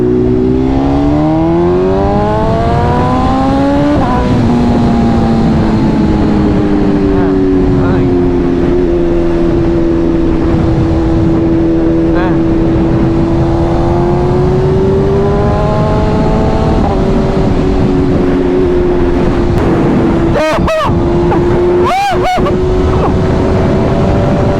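A Porsche 992 GT3 RS revs loudly and up close at a supercar meet, its engine note climbing and holding in a sustained high-pitched wail for over twenty seconds, with a few sharp bursts near the end.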